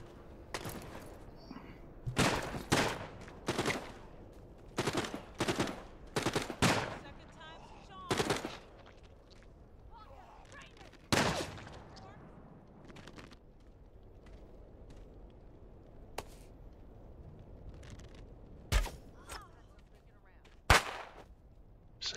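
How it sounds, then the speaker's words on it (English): Gunfire in the video game The Walking Dead: Saints & Sinners, a series of sharp single shots with irregular gaps, loud and close, against a quieter background. "Shots fired."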